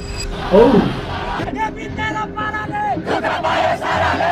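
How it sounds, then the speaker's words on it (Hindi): Thousands of young protesters crowd the streets of Kathmandu, Nepal, in a loud mass of shouting and chanting, with individual yells rising over a dense roar of voices throughout. "नेपाल की राजधानी काठमांडू में हजारों लोगों की भीड़ इकट्ठी हुई थी प्रोटेस्ट करने के लिए"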